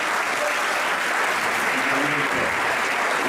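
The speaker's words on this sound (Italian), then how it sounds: "Facciamo un grosso applauso a Lecce." A crowd applauds the Lecce football team at a sports awards event in Melendugno, a continuous dense wash of clapping from many hands with faint voices mixed in.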